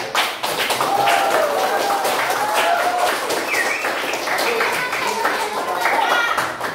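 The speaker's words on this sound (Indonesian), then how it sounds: "Ya, kita tepuk tangan sama-sama." A classroom group clapping together in appreciation, a continuous crackling patter of many hands held at steady strength, with children's voices and chatter mixed underneath.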